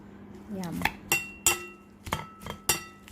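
Metal utensils clink and tap against a dish at close range while grilled squid larb salad with shallots, garlic, spring onion, coriander and mint is tossed, giving about six sharp irregular clinks with a brief voice early on.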